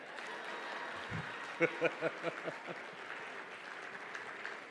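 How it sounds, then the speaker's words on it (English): Audience applause at a Merck Foundation Africa conference, rising into a sustained crowd clapping with a few sharper claps standing out midway, then continuing steadily to the end, with faint voices mixed in. "you clap loudly for this one"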